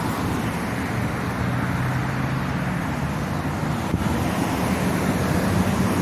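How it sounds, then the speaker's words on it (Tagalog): Steady roar of heavy rush-hour road traffic, many cars passing continuously at moderate distance during an evening walk, a constant broadband wash with a faint low engine hum and no voices. "Ang daming sasakyan kasi uwian na galing trabaho."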